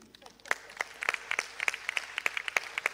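Scattered applause at a conference on human capital and digital growth in Africa, individual claps sounding distinctly in an uneven rhythm that builds slightly, with some voices in the room beneath.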